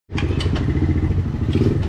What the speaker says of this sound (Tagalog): Ang bagong motor ni Dagol